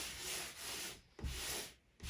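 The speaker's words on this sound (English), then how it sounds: "So now I'm just going to wipe it off with a cloth, damp cloth" A damp cloth wiped over a freshly sanded drywall patch gives soft, close rubbing strokes in two clear swipes with a short pause between them, quiet and without talk.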